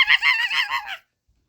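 A voice imitates a hen's cackle during a Jack and the Beanstalk storytelling: about one second of close, loud, rapid pulsing clucks, then silence.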